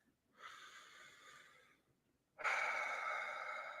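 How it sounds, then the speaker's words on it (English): Two slow, close, soft breaths: a gentle breath in through the nose, a pause, then a longer, louder, airy exhale out through the mouth, with no talking. "you breathe in through your nose, out through your mouth"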